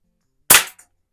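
Single sharp crack of a pump-action air gun shot at a target, close and loud, followed by a faint brief tick of the impact.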